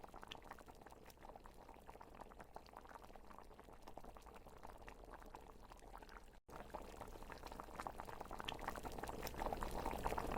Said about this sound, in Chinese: 一路的保持大火，等到水烧开之后，再滚多1分钟